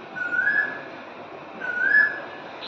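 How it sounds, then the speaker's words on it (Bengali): An Asian koel calls twice from a tree in Kolkata, two clear rising whistled notes about a second and a half apart, moderately distant over quiet background. "কোকিল ডাকছে"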